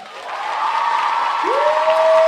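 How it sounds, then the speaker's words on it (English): Applause from a fan-convention audience at a Bloodlust event, a steady wash of clapping that swells and holds, with a whistle-like tone rising and then sustaining over the crowd. "Est-ce qu'on peut faire un tonnerre d'applaudissements à Donia"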